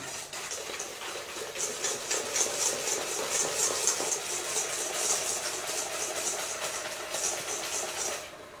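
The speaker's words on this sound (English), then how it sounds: "put 8 egg yolks in it, along with an 1/8 teaspoon of fine salt and 1/2 cup of granulated sugar, and whisk them till they're smooth" A whisk beats eight egg yolks with fine salt and granulated sugar in a bowl, a fast, steady rhythm of light metallic clicks and swishes that continues for several seconds.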